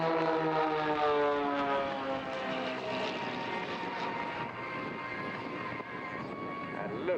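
Matadors aerobatic display aircraft roar past at the Southport Air Show 2018, a loud, sustained engine drone with shifting pitch that fades slightly over several seconds.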